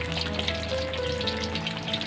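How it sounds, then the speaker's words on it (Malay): Fish frying in hot oil in a wok for Malaysian taucu fish, a steady close sizzle and crackle throughout with faint scraping as hot oil is spooned over the top. "Simbah sikit lah minyak panas tu kat bahagian atas ikan tu supaya cepat masak."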